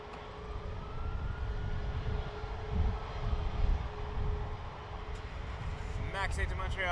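A Boeing 777 airliner on its takeoff roll at Toronto Pearson, a continuous, moderately distant engine roar with low rumbling surges and a steady whine, ending in a brief burst of clattering noise.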